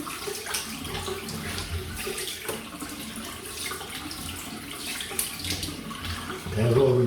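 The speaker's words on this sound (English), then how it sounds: "I'm just going to rinse the face" Running tap water splashing as a face is rinsed after a wet shave with a safety razor, a close, continuous gurgle with small splashes and a louder splash at the very end.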